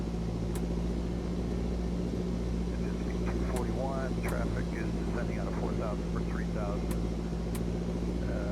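A steady, droning piston aircraft engine runs up during a magneto check in the X-Plane 12 flight simulator, holding a constant hum throughout. Someone talks over the engine noise.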